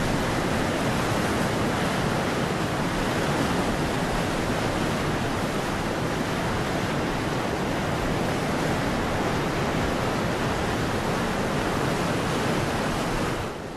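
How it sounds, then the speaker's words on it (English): Rushing water pours steadily at the springs feeding the Orontes River, a dense, loud, unbroken roar that stays constant throughout with no voices. "Below are the springs that give life to the Orontes River."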